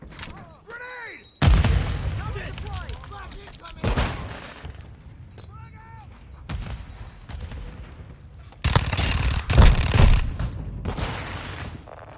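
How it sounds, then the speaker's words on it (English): Grenade blast in Call of Duty Modern Warfare II multiplayer: heavy booms burst out among scattered gunfire and explosions, with short in-game voice callouts between the hits. "Grenade!"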